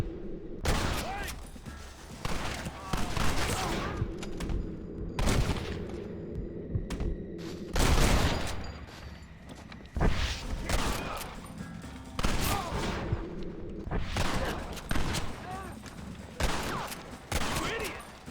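Gunfire during a shootout in the western game Red Dead Redemption: dense, rapid volleys of rifle and pistol shots keep cracking almost nonstop, with voices shouting in between.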